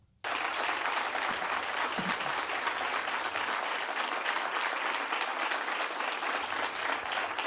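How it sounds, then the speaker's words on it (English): Sustained audience hand claps start abruptly after a brief silence and carry on loud and even for about seven seconds, a thick continuous wash of clapping with no talking on top. "Did y'all notice them hand claps?"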